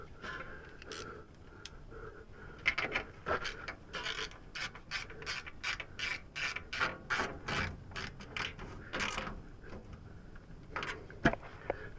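A ratchet wrench tightens a bolt on the undertray of a Lotus Evora S, giving quick runs of close, crisp clicks in uneven bursts with short pauses between strokes.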